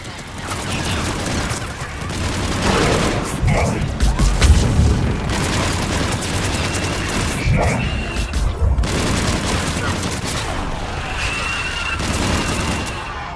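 Missile explosions from the Mass Effect 3 video game boom in a dense, continuous barrage of loud blasts and gunfire-like cracks, with heavy low rumble throughout and a voice speaking over the battle.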